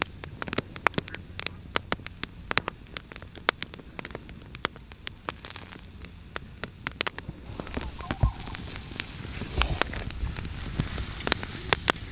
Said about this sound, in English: Meat grilled on an open fire.